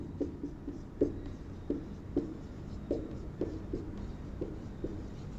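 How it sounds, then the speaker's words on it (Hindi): A pen writes math equations on paper during a trigonometry lesson. Faint scratching strokes and light taps recur in an irregular rhythm over a quiet background, with no talking. "अब इसको मैं और अच्छे से लिख दूंगा इन दोनों को"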